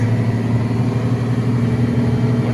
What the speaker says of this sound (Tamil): நம்ம வந்து இந்த சின்ன வண்டி தான் ஓட்டிகிட்ருக்கேன். 10 டன் வண்டி